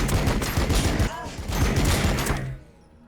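Rapid, dense gunfire volleys in a Warhammer 40,000 battle between Blood Angels and T'au, a loud close fusillade that cuts off abruptly near the end.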